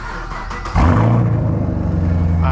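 A 2010-2015 Chevrolet Camaro SS on its stock exhaust cranks and fires up, settling into a loud, deep, steady idle rumble close by.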